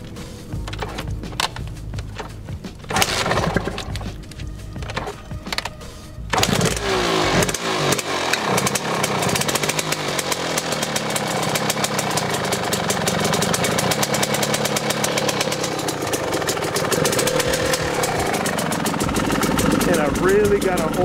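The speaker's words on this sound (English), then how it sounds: "Let me try and see if I can kick this bike over and show you what I mean." A 1994 Suzuki RMX250 two-stroke dirt bike with an idle fault is kicked a few times with scraping thumps, then fires and settles into a loud, steady, slightly uneven idle that continues close by.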